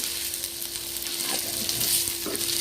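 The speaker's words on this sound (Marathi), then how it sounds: "कांदा याच्यामध्ये पण आणि तीळ जे आहे ते तेलात टाकल्या टाकल्या भाजलं जाते" Onion, sesame seeds and masala frying in oil for a spicy village-style drumstick curry: a steady, close sizzle with faint stirring scrapes and a constant low hum underneath, no speech.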